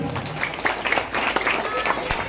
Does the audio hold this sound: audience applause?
yes